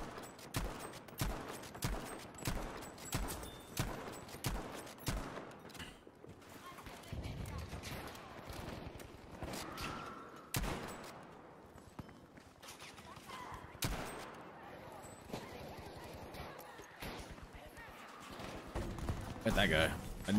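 Jungle carbine gunfire in Battlefield 5, a rapid run of sharp rifle shots in the first several seconds, then scattered shots amid the game's noise, with a player talking over it.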